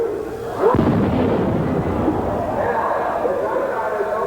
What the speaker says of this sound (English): Allison Bly, the dynamite charges exploding around her.